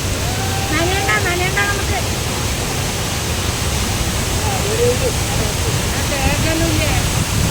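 Hogenakkal waterfall rushes as a broad, steady roar of falling water over rocks, heard close. A voice narrates over it throughout.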